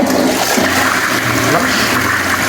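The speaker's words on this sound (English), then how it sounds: "Now, this is our toilet." A toilet flushes in a small cabin bathroom, a loud, steady rush of water filling the whole moment close to the listener.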